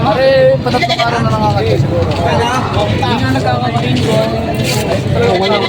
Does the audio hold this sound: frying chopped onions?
no